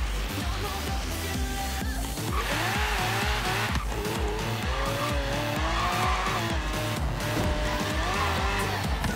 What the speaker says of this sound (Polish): Posłuchamy, jak ta V12 brzmi.